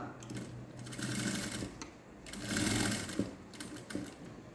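A sewing machine stitches piping onto the edge of a woollen-thread patchwork blouse, a close, steady mechanical whir in two or three running bursts with short pauses between, with no talk.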